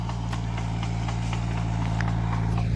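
A farm tractor engine runs at a steady low idle, a constant close hum with faint irregular ticking over it and no speech.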